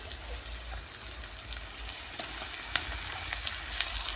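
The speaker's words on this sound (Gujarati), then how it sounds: "હવે આમાં આપણે ટમેટા એડ કરીશું।" Onions and tomato frying together in a pan, giving a steady close sizzle with a soft crackle throughout and faint stirring scrapes, no talking.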